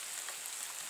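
Steady rain falls outdoors in wet weather, a dense even hiss of drops on surfaces that runs without pause through the short moment, with no voices.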